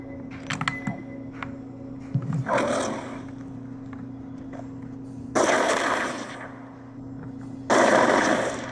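Gunfire from the Nornfang sniper rifle in Halo 5: Guardians, with a damage boost active. Two loud, sustained blasts arrive several seconds apart, each with a long noisy tail, and lighter clicks and thuds come before them. No one speaks.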